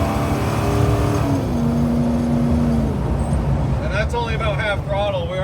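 A Chevrolet K5 Blazer accelerates at about half throttle on the highway near 65 mph, a steady engine drone with wind and road noise from inside the cab, with a person speaking over it.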